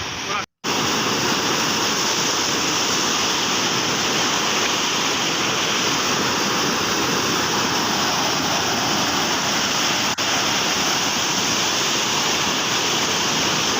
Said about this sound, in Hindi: ये देखो दोस्तों पानी कितना तेज है।